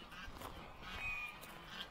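Geese playing in their water give a few faint, distant honks over a low, noisy outdoor background.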